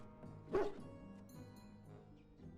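A single dog bark sounds in the video game Dragon Age: Origins, rising briefly over a soft, steady game soundtrack.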